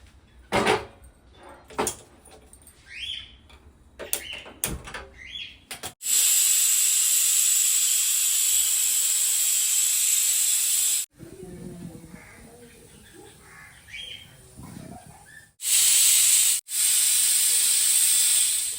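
Goat intestines boiling in a pot give off loud, continuous steam hiss in two long bursts, broken by quieter stretches of household clatter and faint voices in between.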